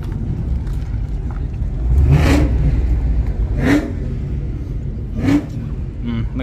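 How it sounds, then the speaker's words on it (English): A classic Ford Mustang at a cars and coffee show gives three sharp revs about a second and a half apart, loud and close over a rumbling idle, with crowd noise underneath. "Look at that classic Mustang."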